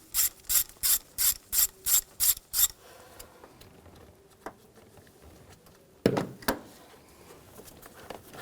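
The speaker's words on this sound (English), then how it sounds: "use a 10mm socket, take this bolt out" A ratchet with a 10mm socket loosens a bolt on a 2010-2017 Chevrolet Equinox 3.6L, seven evenly spaced sharp clicking bursts, close and loud, followed by quieter handling and a final rattle of metal.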